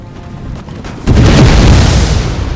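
Grenades thrown by troops in the strategy game Napoleon: Total War go off as a loud, deep boom that swells suddenly and rumbles on, heavy low-end blast with no voices.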